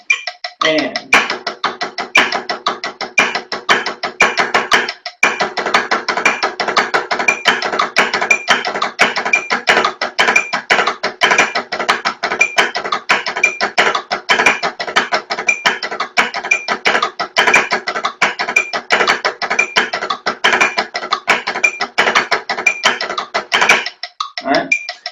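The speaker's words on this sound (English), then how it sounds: "I'm gonna do the tap, flam, drag." A tap, flam, drag drum rudiment grid played at a percussion clinic: a long run of rapid, evenly spaced crisp strokes, loud and close, with a brief gap near the start and a pause before the end.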